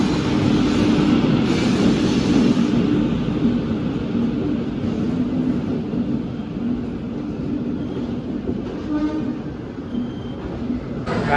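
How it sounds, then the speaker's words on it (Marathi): A train pulls into a busy railway platform in Rajkot, a steady loud rumble of wheels and carriages filling the whole stretch with a faint high hiss, no talk over it. "गाईज फायनली आली बघा ट्रेन."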